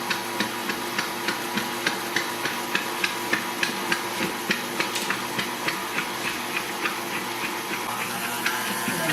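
Electric mixer running on low, beating white chocolate cream cheese frosting, with a steady whir and regular rhythmic ticking as the beaters knock the bowl, close and moderately loud with no talking.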